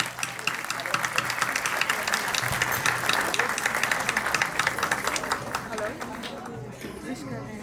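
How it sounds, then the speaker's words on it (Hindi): Loud, sustained applause from an audience at a school class show, dense continuous clapping with some crowd chatter, tapering off toward the end. "जोरदार तालियां।"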